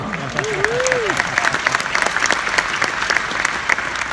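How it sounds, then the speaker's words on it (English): Sustained audience applause from a large corporate crowd at an interactive orchestra-style event, dense steady clapping throughout with a voice briefly calling out over it near the start. "Give yourself a round of applause."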